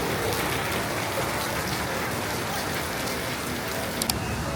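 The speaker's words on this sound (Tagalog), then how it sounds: "It's gonna rain until Wednesday." Steady rain falls in Taiwan, a dense continuous patter hitting surfaces nearby, loud and even throughout with no voices over it.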